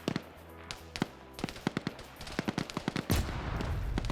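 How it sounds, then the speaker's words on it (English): Rapid bursts of gunfire in a video game battle, with several shooters firing over one another, crack after crack in an uneven rhythm, then a heavy rumbling blast near the end. "he is masking his gunfire with that of the others"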